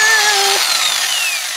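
A power tool whirs during a tire change, tightening a wheel nut with a brief rising whine that winds down after a moment, loud and close, with no talking.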